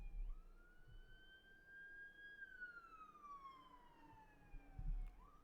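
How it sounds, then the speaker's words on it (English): A siren wails past in the distance, its tone rising and then sliding downward as it goes by, over low traffic rumble. "Oh god, there are sirens going by."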